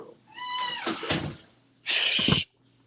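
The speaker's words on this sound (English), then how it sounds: "I got a Siamese cat that's like fucking with my stream when every time I'm cooking up." Siamese cat meowing indoors, one clear drawn-out meow up close followed by rustling and a short loud burst of noise, with no talking over it.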